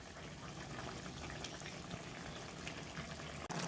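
Spiced water for a bhetki fish-bone curry boils quietly in a pan, a soft, steady bubbling and simmering with faint crackles and no talk over it.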